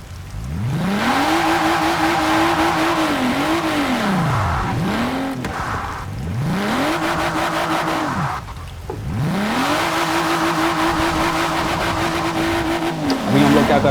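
A BMW M4 Coupe revs repeatedly in a series of rising and falling engine sweeps, holding high revs between drops, loud and close throughout with a brief pause near the middle.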